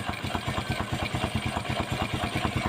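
Motorcycle engine idling during a carburetor idle adjustment, a quiet, steady, fast chugging pulse with light mechanical clatter, no talking.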